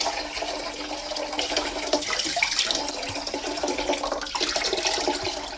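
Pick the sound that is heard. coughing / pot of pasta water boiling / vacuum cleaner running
pot of pasta water boiling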